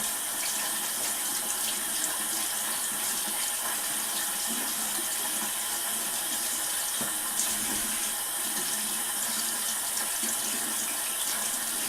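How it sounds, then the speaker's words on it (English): Running tap water streams steadily into a sink while a makeup brush is rinsed under it, a constant close splashing hiss for the whole stretch with faint handling noises and no talking. "I'm going to rinse my brush out."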